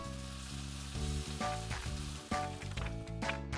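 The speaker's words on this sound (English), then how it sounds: "Now Mummy teaches Ollie how to use the frying pan safely." Pancake batter sizzles quietly in a frying pan, a soft continuous hiss with occasional light clicks, heard close and alone without voices.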